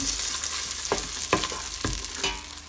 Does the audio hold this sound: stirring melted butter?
yes